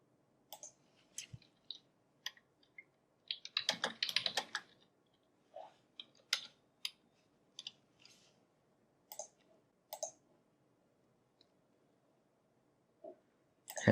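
Typing on a computer keyboard while entering a website URL into a page speed testing tool: quiet, close key clicks in irregular bursts, with a dense flurry of keystrokes around the middle and sparse single taps afterward, no voices.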